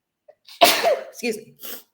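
A single sharp sneeze, close and sudden, followed by a brief muffled vocal sound.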